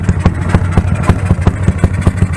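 Yamaha YBR OHC motorcycle engine running on alcohol fuel, idling with a steady low throb and regular clattering pulses, close and loud, with no voices.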